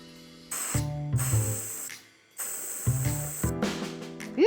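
Two long bursts of aerosol spray paint hissing from a can into a cup, each lasting over a second, with a short pause between and a brief rattle near the end.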